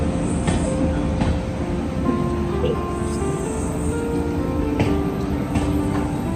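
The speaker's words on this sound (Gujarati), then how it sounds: "હવે આવી ગઈ છે આપણી ટ્રેન આપણે આ ટ્રેનમાં જવાનું છે" A train pulls into a station in Gujarat, its wagons rumbling and wheels squealing steadily and loudly nearby, with faint crowd murmur and brief higher tones over the noise.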